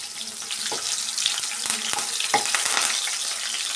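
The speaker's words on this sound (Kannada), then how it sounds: "ಬೆಳ್ಳುಳ್ಳಿ ಕರಿಬೇವಿನ ಸೊಪ್ಪು ಸೇರಿಸ್ಕೊತಾ ಇದ್ದೀನಿ. ಆಯಿಲಲ್ಲಿ ಚೆನ್ನಾಗಿ ಫ್ರೈ ಮಾಡ್ಕೊಳ್ಳೋಣ." Garlic and curry leaves fry in hot oil with a steady, close crackling sizzle, joined by a few sharper pops and scrapes as the pan is stirred.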